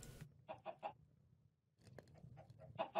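Quiet Minecraft chicken clucking in a modded game, with a quick burst of three clucks, a short pause, then another scattered run of soft clucks nearby.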